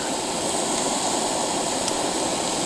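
Chicken cooking in a pan at a winter car-camping site on Vancouver Island in sub-zero temperatures gives a loud, steady, close sizzling hiss that continues without a break.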